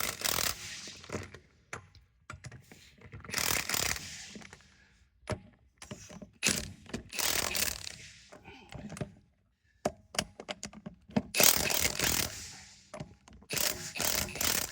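A wrench works the lug nuts while a tire is put back on, giving bursts of sharp ratcheting clicks and metallic clanks with brief pauses between them, close by.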